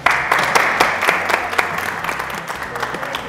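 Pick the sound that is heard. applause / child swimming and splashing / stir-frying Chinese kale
applause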